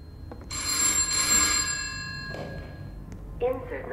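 A telephone rings upstairs in a Roblox horror game, two bursts of bright electronic ringing separated by a pause, with a person talking in between.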